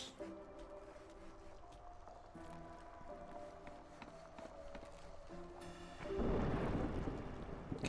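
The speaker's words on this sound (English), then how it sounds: "Okay, storm is approaching." An approaching storm in Against the Storm rumbles faintly, quiet ambient tones giving way to a swelling roll of thunder near the end.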